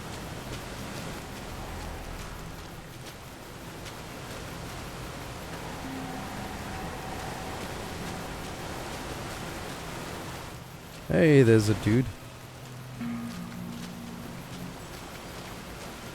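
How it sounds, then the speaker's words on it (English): Steady soft rain hiss in a video game fills the background throughout, with someone briefly speaking over it near the end. "Oh, it's raining."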